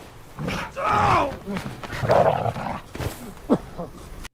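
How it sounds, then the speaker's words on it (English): A dog in a Superman movie scene whimpers and gives excited yelps and barks close by, tangled with people talking and rustling noise throughout the short burst. "And we all know a dog like that just wants to play."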